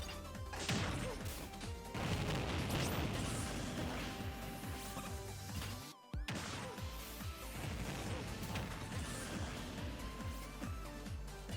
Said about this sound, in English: If used off stage, you can use the explosion to follow up with certain moves to land edge guards.